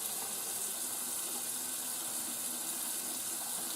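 Steady, continuous rush of running water from a sink faucet fed by a water pump, close and unbroken, with no talking.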